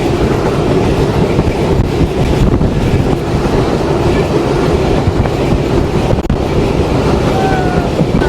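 The Mongla commuter train, running from Benapole to Mongla, rumbles steadily with a loud, continuous roar and rhythmic clickety-clack of wheels on rail, heard close from inside the carriage.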